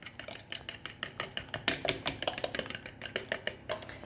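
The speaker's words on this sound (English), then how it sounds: "I'll give that all a whisk with the fork" A fork whisks melted butter and egg in a bowl for cinnamon scroll dough, a quick rapid clatter of tines against the bowl, close and steady throughout with no talking.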